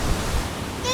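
Ocean waves surge against the rocky coast of Cabo Espichel in Portugal, a steady, close wash of surf blended with gusting wind and no break in the roar.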